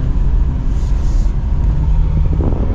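A car drives along a road, its steady engine and tyre rumble loud and close throughout, with no voices.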